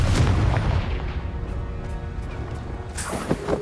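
A Confringo fire spell detonates in Hogwarts Legacy, a loud deep boom that rolls into a rumbling blast and crackle, followed by a sharper burst near the end.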